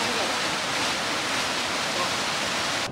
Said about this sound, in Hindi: यहाँ पे बस बारिश और झरने की आवाज़ ही आ रही होगी